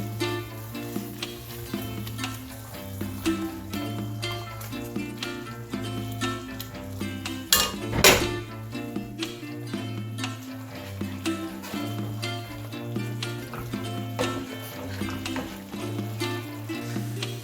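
A pot of golubtsy sauce is stirred with steady soft scraping strokes over a constant low hum. The strokes come in a regular rhythm with one louder clatter midway, close by and with no talk.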